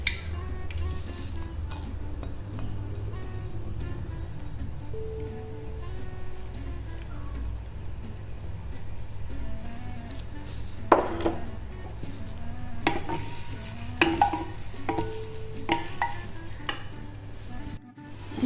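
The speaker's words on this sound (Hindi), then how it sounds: "तकरीबन हाफ़ प्याली ऑयल डाल के ये प्याज इसमें डालेंगे" Onions sizzle and fry in roughly half a cup of mustard oil in a pot while making mash daal achari, a continuous crackling hiss with occasional stirring and utensil knocks, close up and without talk.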